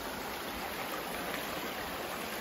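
A mountain stream along the Appalachian Trail runs in a steady, hissing rush close by, an unbroken wash of flowing water with no voices.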